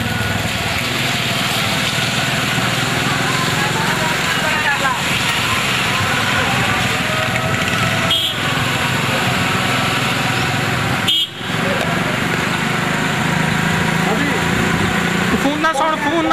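A motorcycle engine runs continuously at a steady buzzing idle, close and loud, at a welcoming gathering in Ahmad Pur Sial, Jhang, with people talking and shouting over it throughout.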